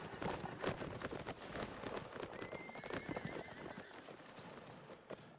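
Horses' hooves clip-clop in the Napoleonic-era battle game Mount & Blade: Napoleonic Wars, a busy, continuous patter of steps amid crowd and battle noise, with a brief whinny in the middle.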